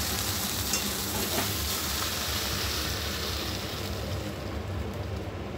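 Okra frying in a pan with mustard for a Bengali dish, a loud steady sizzle with scraping stirs, easing slightly toward the end and heard alone without talk.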